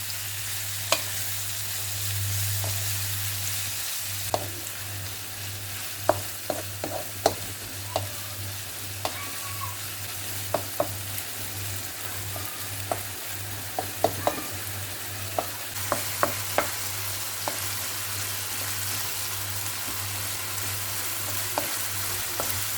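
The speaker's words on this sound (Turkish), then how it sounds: "Domateslerimiz pişip suyunu çekene kadar kavuruyorum." Steady sizzling of tomatoes sautéing in a pan, with scattered clicks and scrapes of stirring and a low hum underneath.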